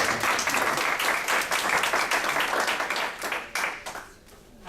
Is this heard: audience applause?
yes